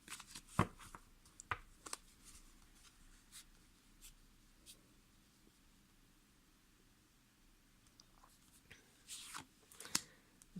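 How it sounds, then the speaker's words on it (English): Tarot cards from a Zillich Tarot deck handled and drawn, with soft scattered card snaps and rustles, a few sharper flicks near the start and end, close and quiet, no talking. "I'm going to choose 3 cards."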